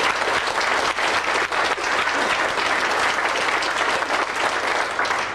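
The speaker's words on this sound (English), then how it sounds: "A big round of sympathy applause for GS Plus technical editor Joe Wankerl." A convention crowd applauds steadily and loudly for a technical editor at an Apple II gathering, a dense continuous wash of clapping throughout with no pauses.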